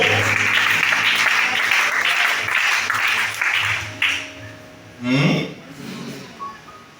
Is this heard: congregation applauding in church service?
yes